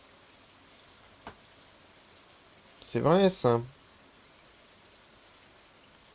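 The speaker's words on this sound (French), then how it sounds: "Mais il pleut." Steady rain falls throughout a farming video game scene, a soft continuous hiss lasting the whole stretch, with a brief click and a short spoken phrase rising over it midway.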